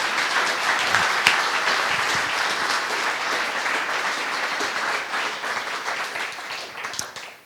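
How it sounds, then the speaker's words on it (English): An audience at a cleantech summit applauds a presenter, a dense and fairly close burst of clapping that stays steady for several seconds before tapering off sharply at the end. "one last round of applause for Sophia"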